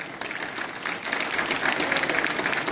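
An audience at the inauguration of the Himalayan Film Festival applauds the dignitaries on the dais, a steady wash of many hands clapping that builds slightly and holds at moderate volume, with no speech over it.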